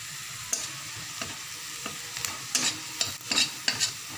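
Onion and garlic frying in a pan for masoor dal: a steady soft sizzle broken by sharp scraping strokes of a spatula, growing busier toward the end, with no voices.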